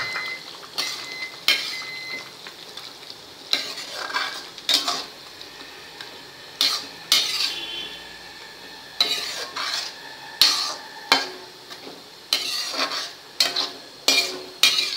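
A spoon scrapes and clinks against a pan as chopped capsicum is stir-cooked for pav bhaji over high heat, with repeated sharp stirring strokes in an irregular rhythm over a faint sizzle.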